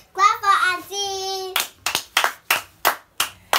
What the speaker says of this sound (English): Clap for auntie.